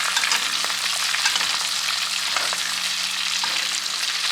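A wagyu ribeye steak sizzles loudly in a very hot pan as butter is basted over it, a dense, unbroken hiss and crackle heard up close, with no voices.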